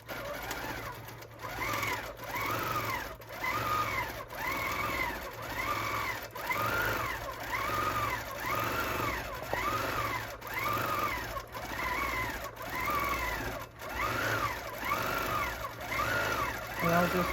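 A longarm quilting machine stitching a filler design across a quilt: a steady, close mechanical whir with a regular rise-and-fall stitching rhythm repeating about once a second throughout.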